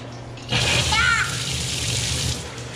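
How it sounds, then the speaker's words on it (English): Water gushes from a hooked-up water storage system, a strong steady rush that starts abruptly and runs for about two seconds, with a brief higher-pitched tone over it early on. "So I think if I turn this on, we should have enough water coming out."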